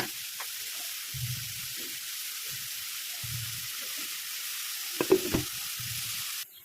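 Taro stalks with shrimp fry in a pan with a steady close sizzle, broken by several soft scraping stirs of a spatula.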